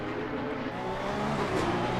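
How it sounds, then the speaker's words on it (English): Porsche Cup race cars on a formation lap, a steady engine roar from several cars running together, loud and sustained without voices. "And the cars just sound amazing."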